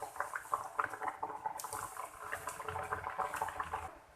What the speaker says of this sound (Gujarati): પૂરીને આપણે ગોલ્ડન બ્રાઉન થાય ત્યાં સુધી તળીશું